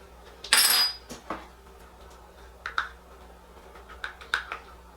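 Box hair dye colorant is being mixed in a bowl, with sparse clinks and taps of a tool against the bowl. A louder scrape or rattle comes early, followed by light intermittent clicks in a quiet room.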